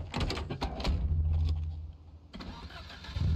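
A car engine starts in the video game Project Zomboid with a few clunks, as of a door or handling, then a low cranking and turnover that rumbles briefly and settles, fairly close.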